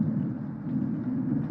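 Low, steady rumble of thunder from a lightning storm, a continuous dull roar with no distinct cracks, fairly loud and heard alone.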